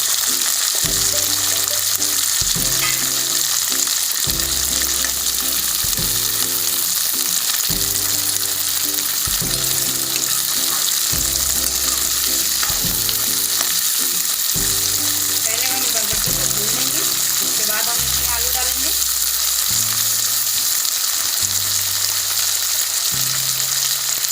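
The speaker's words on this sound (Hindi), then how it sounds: "हमारा भून रहा है धीरे धीरे" Long beans and potatoes frying in a pan, a constant loud sizzle running the whole time, with a steady repeating low musical pattern heard over it.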